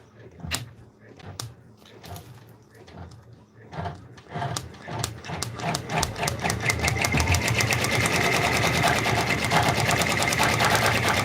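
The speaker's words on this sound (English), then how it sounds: "And now you can enjoy the embroidery. And the machine will do its thing." An in-the-hoop embroidery machine stitching a raccoon stuffed toy starts with scattered clicks and knocks, then settles into a fast, steady mechanical chatter that grows louder and continuous, with a voice briefly talking early on.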